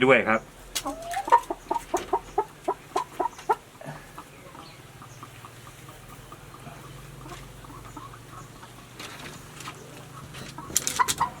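Laying hens cluck in a coop built from old salvaged materials, a rapid series of sharp clucks at first giving way to softer scattered calls against a quiet background, with a brief louder burst near the end.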